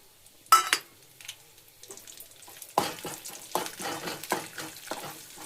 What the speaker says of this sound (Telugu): ఇంక ఇవి కూడా ఫ్రై అవ్వనివ్వాలి